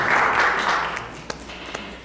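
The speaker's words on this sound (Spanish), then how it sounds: "Recibámoslo con un fuerte aplauso porque hoy nos hablará sobre lógica y lingüística." Audience applause welcoming a lecturer on logic and linguistics at a school of philosophy: a dense wash of clapping that fades over two seconds, leaving a few scattered late claps.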